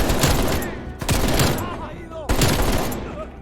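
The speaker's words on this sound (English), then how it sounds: "In Modern Warfare, weapons felt bassy and powerful, whereas in Cold War, they sound kind of tinny and generally underwhelming." Automatic gunfire from the video game Call of Duty Cold War comes in three rapid bursts, each sharp and fairly close, with a ringing tail that fades between volleys.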